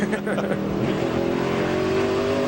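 NASCAR stock cars roar through a practice session, with Dale Earnhardt Jr.'s number 8 Budweiser car among them: a loud, sustained engine drone with shifting pitch as cars pass, under a commentator's voice.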